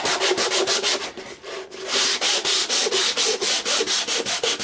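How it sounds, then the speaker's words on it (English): Sandpaper of 240 grit rubbed by hand over a wooden saw vice part in quick back-and-forth strokes, a steady run of close, loud scratchy passes with a brief pause partway through. "Piece of 240 grit sandpaper. Just smooth it all out."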